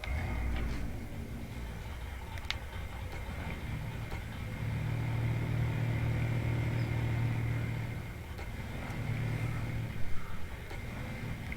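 A stock truck engine in a modded video game runs steadily at a low, droning idle, with a slight rise in the middle and a few small knocks near the end, and no voices over it.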